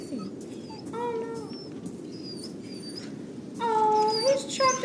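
A trapped dog whimpers in Resident Evil 4, giving thin, high, wavering whines in repeated short bursts over a low game ambience, growing louder and more urgent near the end.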